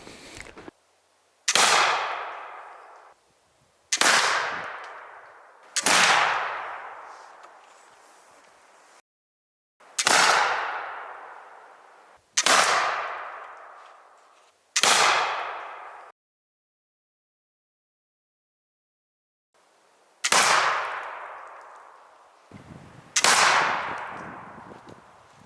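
A smoothbore flintlock fires eight loud, sharp shots spaced a few seconds apart, each blast trailing off in a short echoing decay, with a longer silent pause before the last two.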